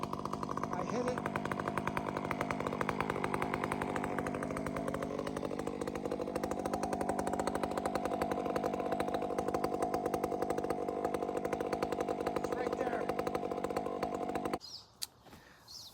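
A chainsaw grinds steadily against a piece of steel, its engine roaring close and loud with a harsh, gritty buzz for about fifteen seconds before cutting off abruptly.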